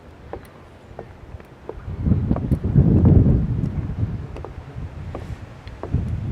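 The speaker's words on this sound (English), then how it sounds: "You can see the wind blowing today." Wind blows along a Toronto beach by the lake, a soft roar and rumble against the microphone that swells to a louder gust midway, then settles into a steady, muffled rush.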